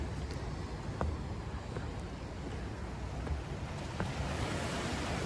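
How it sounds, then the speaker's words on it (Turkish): Sea surf washes steadily on the Zonguldak coast as a broad continuous roar with wind buffeting the microphone and a few faint clicks, no speech. "size bir denizini göstereyim"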